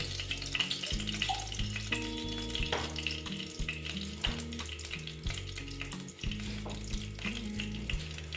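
Oil heats in a pan for a vegetarian mouri potol dish, sizzling and spitting steadily up close, with a few stirring sounds under continuous background music.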